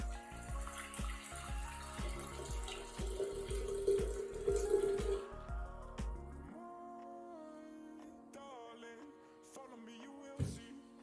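Water is poured over saffron to make an infusion, a soft continuous trickle and splash over rhythmic background thumps that ends midway, followed by quieter clinks and kitchen handling, faint and close with no talk.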